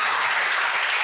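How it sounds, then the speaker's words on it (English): Brief burst of dense audience clapping at a math tournament, steady and full for about a second with no voices over it. "let's give a round of applause to them"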